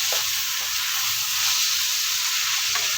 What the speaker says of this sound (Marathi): छान असं परतून घ्यायचं आहे आपल्याला।